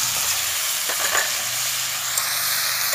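Slit green chillies fry in a hot pan of oil, giving a steady, loud sizzling hiss with faint stirring scrapes throughout.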